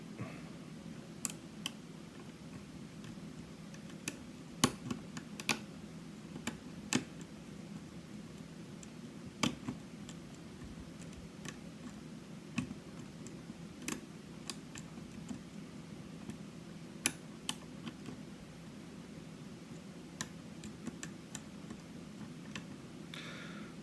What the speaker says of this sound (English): A lot of clicking off of them.